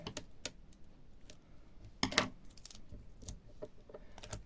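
Dry crackling and ripping bursts of adhesive tape being pulled from a roll while making a candle, one longer loud pull in the middle and shorter tugs around it, close by.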